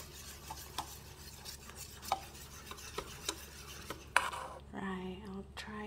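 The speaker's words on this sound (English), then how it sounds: "A manual whisk for now." A manual whisk mixes condensed milk and creamer in a bowl, producing faint, quick rhythmic clicks and taps against the bowl, close and quiet.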